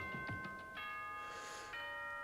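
A school announcement chime from the Danganronpa video game rings out as a few clear, sustained bell-like tones over faint low thuds, sounding steady and fairly quiet.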